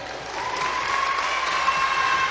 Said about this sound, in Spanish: Que se escuche ese aplauso para Lucita de San Gabriel.